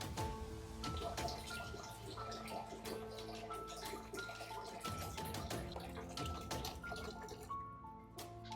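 Water pours steadily into a large bowl, a continuous splashing and gurgling with the tone slowly shifting as it fills.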